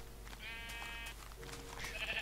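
Sheep in Minecraft bleat twice in quick succession, a wavering nasal call over a low steady hum, fairly faint.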